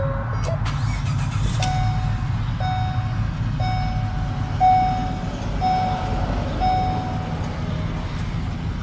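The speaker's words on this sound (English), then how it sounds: "now we'll go ahead and start the engine" A 2015 Ford Transit 150 cargo van engine cranks briefly and catches, then settles into a steady low idle while a soft electronic chime beeps at regular intervals, about once a second.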